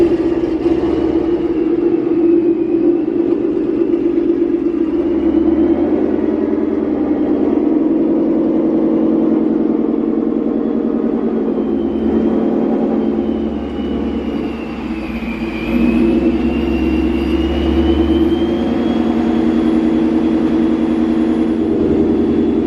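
A supercharged 2020 Ford Mustang GT500 on the road, heard as a steady, loud low engine drone and rumble from inside the car. The drone holds nearly constant, dips briefly, then rises back, and no one talks.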